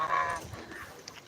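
Ducks and fowl, including black chickens, call on a farm: a faint honking, quacking cry at the start, followed by softer, distant bird sounds over background noise.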